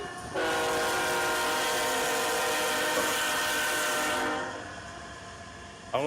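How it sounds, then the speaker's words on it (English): A train horn blares loud and close over a rumbling train passing at night during an Illinois tornado warning, sounding in one long sustained blast before cutting off and leaving fainter rolling noise. "That is a loud train."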